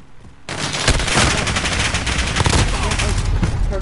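Dense, sustained gunfire in a shooter video game, a loud, continuous stream of rapid shots and impacts lasting several seconds, with faint voices mixed underneath.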